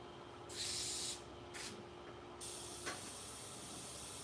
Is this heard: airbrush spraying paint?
yes